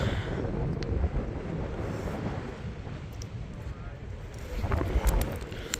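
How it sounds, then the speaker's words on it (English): Strong wind buffets the microphone atop a tall tower, a continuous low rumbling roar with gusty swells throughout, loud and close, with a few faint clicks over it. "The wind is picking up, but look at those views."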